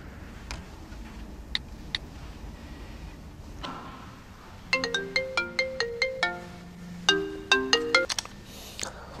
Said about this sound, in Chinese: 打个电话问问吧。